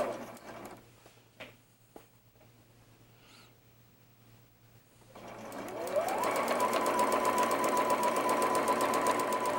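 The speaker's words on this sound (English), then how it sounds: "I'm just going to go ahead and sew my coordinate seam." A sewing machine stitches a quilt seam. Soft handling rustles and small knocks come first, then the motor starts and runs loud and steady with a fast, even needle rhythm.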